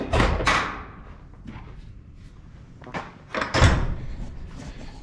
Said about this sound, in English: I'm gonna open the doors